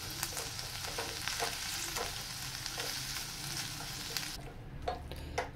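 Minced chicken stirred and mashed in a pan over a low flame, with a steady soft sizzle of frying under repeated scraping and pressing strokes, close and moderately loud, with no talking.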